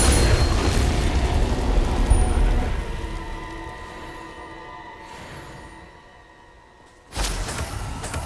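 Bombarda spell explosion in Hogwarts Legacy on PS5: a loud, rumbling blast that slowly fades over several seconds, then a second sharp burst near the end.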